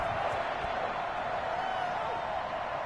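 A sold-out Gillette Stadium crowd in the Madden football game roars steadily as the Patriots face the Las Vegas Raiders, a dense, continuous wash of cheering with no breaks.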